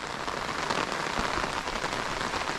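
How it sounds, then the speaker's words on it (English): Rain falls steadily on surfaces outdoors in Kandy, Sri Lanka, a dense, even hiss of drops throughout, fairly quiet and with no voices. "It's raining."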